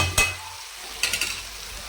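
Tomato pieces sizzle in a pan with softened capsicum, with a sharp clatter as they land or are stirred, then a few quick scraping stirs over a low fry.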